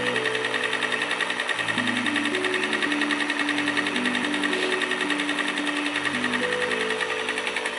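Small battery-operated beauty sponge washing machine with a little lid, running steadily with a continuous motorized whir and buzzing hum, close and fairly loud, with no speech throughout.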